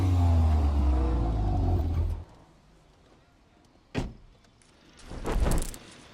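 A Volkswagen Golf 8 R rumbles loudly at close range as it is moved, then the engine noise drops away, leaving a quiet stretch broken by a sharp thump and a softer swell of noise.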